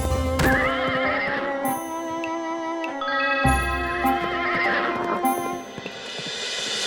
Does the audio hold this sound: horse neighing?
yes